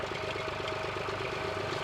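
The 3-cylinder, 2.9-litre engine of a 56 horsepower John Deere 1140 tractor runs steadily at a low, even throb during sugar beet drilling. The sound is continuous and close, with no talk.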